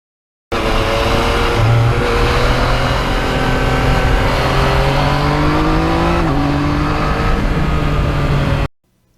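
Yamaha MT-09 naked motorcycle engine heard steadily while riding, a loud continuous drone with rising and shifting pitch through gear changes, running alone for about eight seconds.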